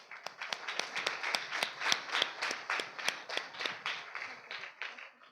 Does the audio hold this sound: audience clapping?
yes